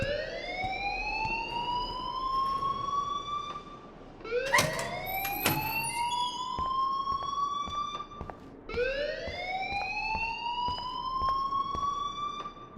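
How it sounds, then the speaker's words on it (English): Rising, wailing alarm siren from the Life is Strange video game, sounding loudly in three long sweeping cycles with brief gaps between them, with faint clicks and background noise underneath and no talk. "please turn off that alarm since that's your job"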